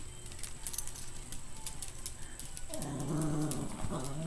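A pair of adult Yorkie dogs growl and grumble while tugging on a toy together. The growling rises in the second half, close and moderately loud, after a quieter stretch with faint rustling and light jingling.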